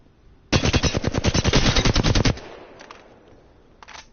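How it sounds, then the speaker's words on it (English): Flatline automatic rifle from the video game Apex Legends fires a steady, rapid burst of about two seconds, loud and close, followed by faint trailing echoes and a few soft mechanical clicks. "The flatline is definitely a steady automatic."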